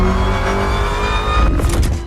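A supercharged Toyota Tacoma's engine roars loud and close, a steady revving drone with a brief rise near the end, with no talking over it.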